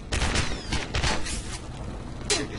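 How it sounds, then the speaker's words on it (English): Gunfire in the Gotham City Impostors video game comes as a quick string of sharp shots, several in rapid succession and then a lone crack near the end, loud and close with no talking. "I'm getting shot at again"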